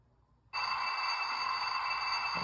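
An MTH model train engine starts up after a short pause and settles straight into a steady, loud electronic hum. The hum carries high tonal whine and holds constant to the end.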